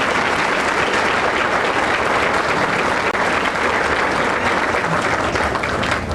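Steady, loud applause from an audience at a school academic awards evening, an even wash of many hands clapping for several seconds without a break.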